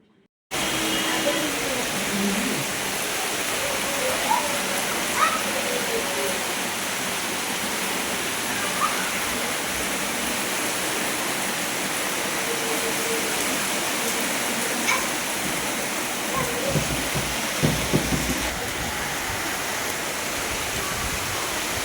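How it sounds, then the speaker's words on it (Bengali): Rain falling outdoors as a steady, dense broadband hiss, close and unbroken throughout, with no voices heard. "বৃষ্টি ওয়েদারটা তোমাদের সঙ্গে উপভোগ করব"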